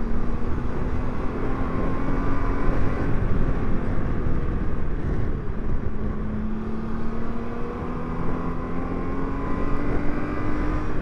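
A Honda Goldwing Tour DCT motorcycle engine revs steadily, held in gear up to about 6,000 RPM in manual mode, its drone rising and settling in continuous loud sweeps without speech.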